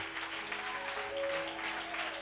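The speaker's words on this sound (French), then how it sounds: "J'aime de très bonnes acclamations." Sustained applause and cheering from a church congregation roll on evenly throughout, a thick crowd of clapping hands with faint vocal tones threaded beneath.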